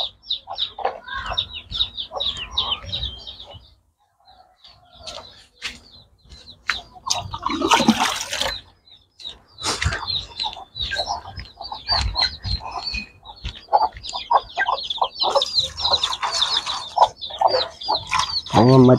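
A hen clucks repeatedly close by, short choppy calls in uneven bursts with some scratching and rustling, a brief lull early on, then busier clucking and louder squawks toward the end.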